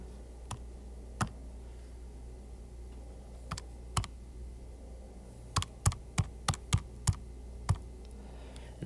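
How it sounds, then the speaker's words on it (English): Computer keyboard keys clicking in short, sparse taps, a few isolated presses and then a quicker burst, close and fairly quiet with no talking. "So I'm going to type that in."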